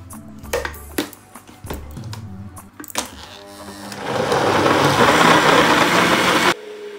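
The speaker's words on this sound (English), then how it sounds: "So we now go ahead to blend it." Several knocks and clatters come first, then a loud, steady whirring blender motor takes over for a few seconds blending a mixed berry smoothie, and stops abruptly.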